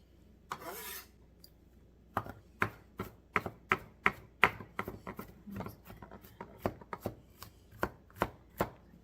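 A knife rocking back and forth on a cutting board chopping garlic, a steady series of about twenty sharp close taps after a brief scrape, with no talking.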